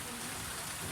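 Heavy rain pours down in a dense, steady hiss during a stormy day at sea aboard a fishing boat, continuous and loud with no pauses.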